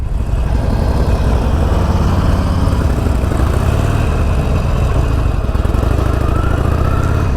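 A motorcycle engine with a stock exhaust idles and runs steadily nearby, a loud, continuous mechanical rumble with no voices.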